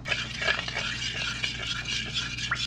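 Spicy seasoning gets stirred into pieces of yellowtail with close, wet squelching and light clinks against a bowl, in short uneven strokes over a low steady hum.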